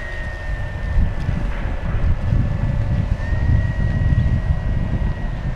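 Gusty wind buffets the microphone at an RC airfield as a heavy FMS Corsair 1700mm V3 model plane with an 8S setup taxis, its motor a faint thin whine under the low rumbling wind.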